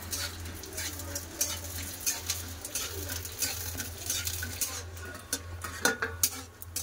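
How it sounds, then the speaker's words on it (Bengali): Peanuts frying in a pan for a leafy greens stir-fry, with a steady soft sizzle and light scraping and stirring clatter throughout, constant low hum beneath. "শাক ভাজা চীনা বাদামটা একটু ভেজে নেবো।"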